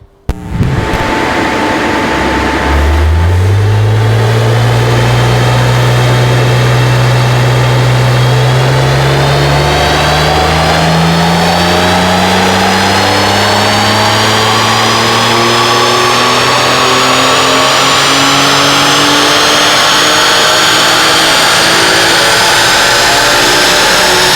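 A BMW Z4 M Coupe on a dyno in sport mode, its engine climbing in one long loud sustained pull, revs and pitch rising steadily for over twenty seconds, very close and with no talking.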